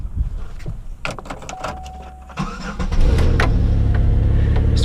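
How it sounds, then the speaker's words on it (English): A 2004 Chevrolet Impala with a 3.4L engine cranks and catches, settling into a steady idle rumble that grows louder and holds, with some clicks and rustling before it starts. "we're going to start the vehicle"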